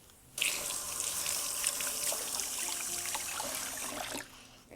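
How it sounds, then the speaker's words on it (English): Tap water runs steadily into a sink while potatoes are scrubbed, a continuous splashing hiss with small clinks of handling, starting abruptly and cutting off near the end. "rinse and scrub our potatoes under running water"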